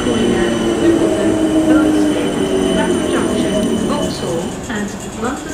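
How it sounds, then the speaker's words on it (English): A South Western Railway eight-carriage train moves through Raynes Park station on the South Western Main Line, its loud rumble carrying wheel squeal and rising and falling whines as it slows, with a station announcement voice over it. "This train has 8 carriages."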